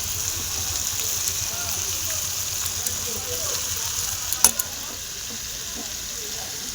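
Spice paste hits a hot pan for macher jhal, a Bengali fish curry with onion greens, giving a steady, close frying sizzle throughout with a few sharp pops near the end and a voice speaking over it.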